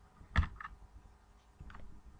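A computer mouse clicking the OK button in Excel: one sharp, close click, then a fainter second click, then a soft tap a moment later, in a quiet room with no talk.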